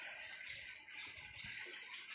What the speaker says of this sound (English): She just turned the water on now.